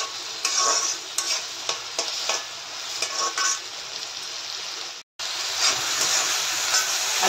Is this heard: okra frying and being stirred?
yes